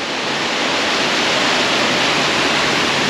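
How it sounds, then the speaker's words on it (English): A waterfall on the Annapurna Circuit trek in Nepal, a loud, steady, broadband roar of falling water at close range, unchanging throughout with no talking. "This waterfall really lifts my spirits a little up."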